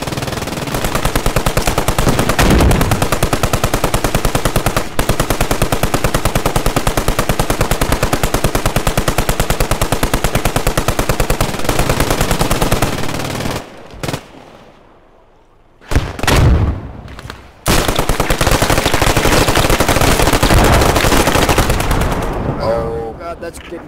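Machine gun fire from the Post Scriptum video game hammers almost without a break. It is loud and close, drops out briefly for a few separate shots near the end, then comes back.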